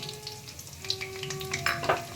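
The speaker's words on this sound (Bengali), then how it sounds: "এগুলো আমার ফোড়ন একটু ভালো করে ভাজা ভাজা হবে" Soft sizzling of whole spices, dried chilli and ginger frying in oil, with light crackles and a few pops, close and fairly quiet, no voices.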